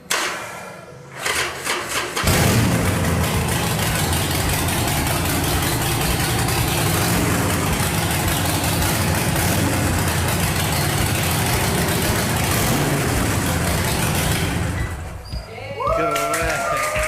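A big motorcycle from a collector's garage starts up after a moment of quiet and settles into a loud, steady idle in neutral for about thirteen seconds, then cuts off. Voices are faintly audible at the end.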